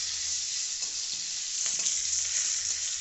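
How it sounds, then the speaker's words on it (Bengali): Cloves, cardamom, cinnamon and bay leaf sizzle in hot oil for a khichdi, a dense continuous frying hiss with a few soft stirring scrapes near the end, no voices. "লবঙ্গ এলাচ ও ডালচিনি দিয়ে ভালো করে এটাকে একটু আর তেজপাতা দিলাম দিয়ে ভালো করে নেড়ে চেড়ে নেব"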